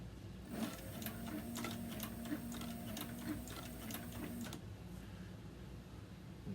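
Sewing machine stitching through a thick piece of leather, a steady rapid mechanical chatter running for about four seconds, then stopping and leaving quiet room noise.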